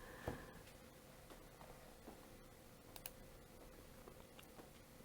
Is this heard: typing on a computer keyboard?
yes